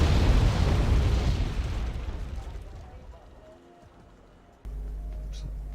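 Mortar shell explosions in the Wargame strategy video game during a 2v2 match: a loud booming burst opens the clip and slowly rumbles away, followed by a quieter low background and a sudden steady low drone near the end.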